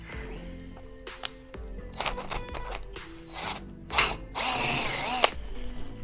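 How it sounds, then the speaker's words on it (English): A power drill whirs in several short bursts under a seat pan, stopping and starting as the bit sticks, with one longer, louder run near the end; clattering mechanical noises between bursts. "And my drill bit stuck."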